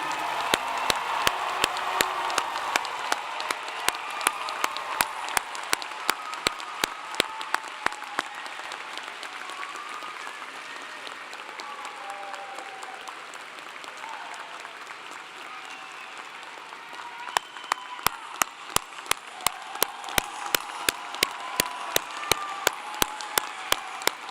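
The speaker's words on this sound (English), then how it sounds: "Will you all please join me in a loud round of applause for our newest doctoral degree recipients?" Sustained applause at a Clemson doctoral commencement for new degree recipients: a broad crowd wash with sharp, regular claps standing out near the microphone, easing in the middle before building again toward the end.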